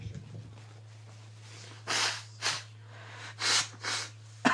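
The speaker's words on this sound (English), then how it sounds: "I do apologize if you hear me blowing my nose." Four or five bursts of forceful nasal blowing and snorting sound up close, each loud and breathy, spaced over a low steady hum with a short murmur at the start.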